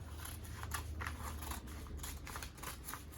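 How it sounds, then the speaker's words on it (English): Scissors cutting the hem of dress fabric, a quiet close series of rhythmic snipping and slicing strokes, about eight cuts with no talk. "I'm just going to cut out the hem"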